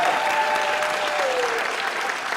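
Audience applause for a house band at a live show, a steady dense wash of clapping filling the whole moment, loud and close with a faint tonal whistle running through it.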